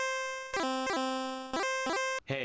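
Bright, buzzy 8-bit chiptune music from Nintendo games plays a short square-wave melody with repeated falling pitch slides and stepped notes, ending in a brief glitchy burst, loud and alone.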